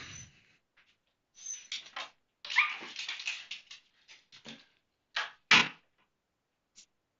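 A dog whimpers and yips in an office, a string of short whiny cries with several louder bursts spread across the clip, near and with no talk.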